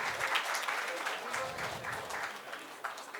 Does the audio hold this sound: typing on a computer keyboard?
no